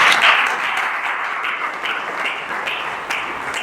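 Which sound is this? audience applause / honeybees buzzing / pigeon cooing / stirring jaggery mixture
audience applause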